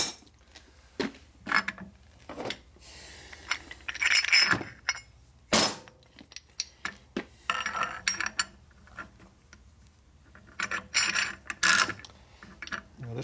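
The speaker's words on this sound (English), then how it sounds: "I'm jamming into the bearing roller there, and I'm under the cage over here. So it's going to come off" A Timken bearing being pried off with a modified wrench jammed under the roller cage. Repeated metallic clanks, scrapes and ratcheting clinks come in uneven bursts, with one sharp loud knock partway through.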